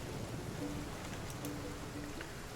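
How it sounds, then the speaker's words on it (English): Rain falls in the survival video game The Flame in the Flood, a steady broadband patter throughout, with a couple of faint tonal bird-like calls over it. "Now it rains."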